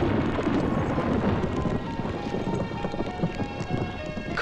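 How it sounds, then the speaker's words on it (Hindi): A thunderstorm with heavy, steady rain and a deep rumble of thunder fills the whole stretch, loud and dense, with no voices over it. "कमाल का तूफान आया यहां"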